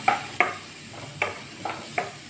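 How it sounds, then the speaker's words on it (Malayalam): Beef snack mixture with finely chopped onions and coconut oil stirred in a pan in a kitchen; a few sharp utensil scrapes and clacks spaced roughly half a second apart over a faint quiet background. "അതിനകത്തേക്ക് ഇടാണ് നന്നായിട്ട് ഇളക്കി കൊടുക്കാം"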